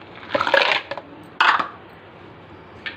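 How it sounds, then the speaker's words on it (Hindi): Ice cubes drop into a pear drink mixture with a few bright, clinking rattles in short bursts, close and crisp against a quiet background. "कुछ आइस क्यूब, जितना आप ठंडा इसको करना चाहें।"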